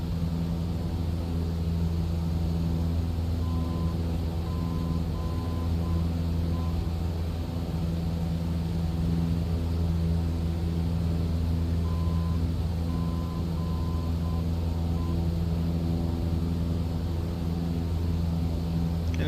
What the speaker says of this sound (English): turn down the airplane noise a little bit more.